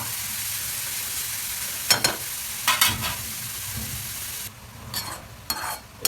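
Grated carrots sautéing in a pan for gajar halwa, a steady low sizzle broken by several short scraping bursts of stirring, close by with no talk.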